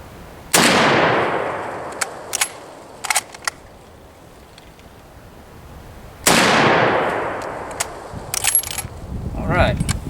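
Two loud Lee Enfield No. 1 Mk III rifle shots, about six seconds apart, each sharp crack trailing into a long rolling echo outdoors, with small clicks and handling noises of the bolt between shots.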